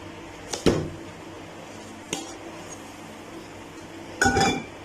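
A plate clinks against a pan while a golden potato pizza is flipped over, three separate sharp clatters of crockery and metal, close and alone.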